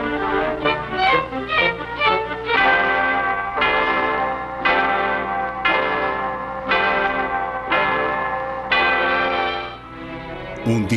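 A chapel's church bell rings repeatedly in a steady, resonant peal, each loud strike blooming and overlapping the fading tail of the last, with no voices.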